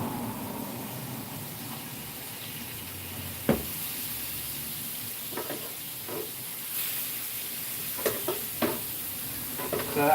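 Beer onions sizzle steadily on a grill in a soft, continuous hiss, broken by occasional sharp scrapes and clicks of stirring.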